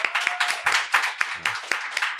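A live show audience claps briefly together, a dense patter of many hands close by with no voices over it.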